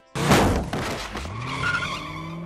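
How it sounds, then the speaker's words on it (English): A cartoon car from Family Guy skids hard, a loud close tire screech that starts abruptly and fades into a lingering squeal over about two seconds. "until Quagmire smacks him with his car"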